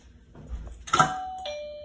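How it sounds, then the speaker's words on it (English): A trained dog named Maya rings a bell on command, giving a single bright ding that rings out clearly and decays slowly, with a second softer chime following after a short pause, in a quiet indoor room. "Ring the bell."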